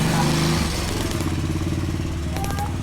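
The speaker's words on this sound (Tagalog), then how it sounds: "Ito drill, pang bakal, tapos pang hammer." A Tanzu 13mm hammer drill runs loudly and steadily, with a dense motor drone throughout and people talking over it.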